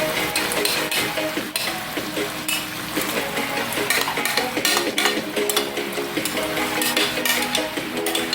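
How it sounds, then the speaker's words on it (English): Chopped onions go into a hot pan and are stirred while they fry, with utensils clattering and scraping against the pan over a steady sizzle, close up and fairly loud. "And I'm going to add onions."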